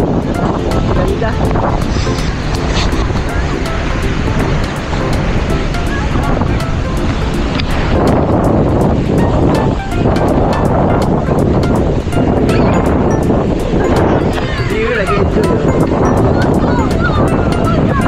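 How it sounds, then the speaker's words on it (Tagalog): Ocean surf breaking along the beach at Bournemouth, England, a steady broadband wash of waves rolling in continuously, with wind buffeting the microphone and occasional voices in the background. "Alon, ang ganda."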